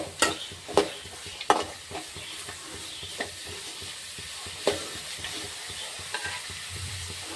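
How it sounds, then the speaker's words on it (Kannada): Tomatoes and onions fry in a pan under a steady, soft sizzle, while a spoon repeatedly scrapes and clacks against the metal in irregular stirring strokes. "ಮೆತ್ತಗಾಗ ಫ್ರೈ ಮಾಡ್ಕೊತೀನಿ"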